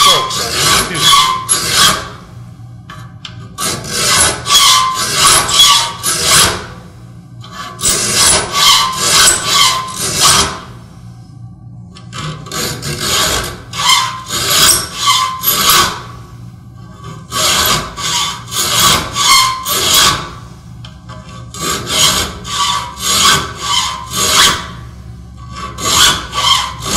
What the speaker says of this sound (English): Notice that I'm filing straight across, same number of strokes, and doing enough strokes to bring it to a sharp point again.